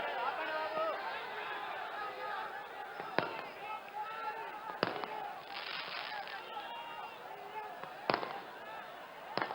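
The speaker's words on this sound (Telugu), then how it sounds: "ఆ టపాకాయలు ఆపాలి బాబు" Several firecrackers burst at irregular intervals at a political roadshow in Miryalaguda, sharp cracks and crackles rising over the chatter of a crowd.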